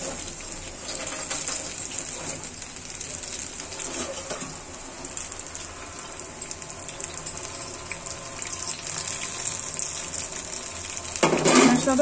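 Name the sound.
washing a plate with water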